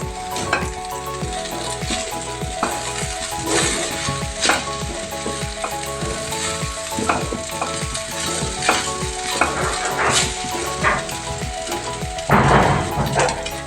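Plain noodles frying in a pan give a steady, loud sizzle, with clinks and scrapes of stirring and tossing breaking through at irregular moments throughout.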